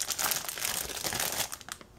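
Plastic bag holding the parts of an Academy Hellcat model kit crinkles steadily as it is handled while unpacking the box, close and continuous for about two seconds with no talking.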